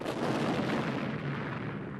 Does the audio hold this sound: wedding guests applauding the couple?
no